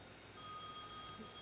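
A mobile phone ringing during a live stream, a faint, thin electronic ring starting shortly in and holding steady over a low background hum.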